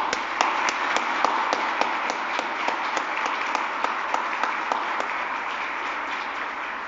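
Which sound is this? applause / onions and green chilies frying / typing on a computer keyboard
applause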